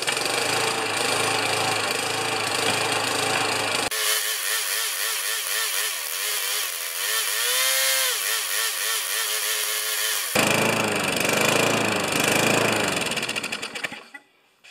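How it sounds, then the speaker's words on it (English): A Murray lawn mower engine is spun over by an electric drill, a steady high whine with a shifting pitched drone in the middle stretch, loud and close, ending abruptly with no talk. "I'm going to start this up with the drill again"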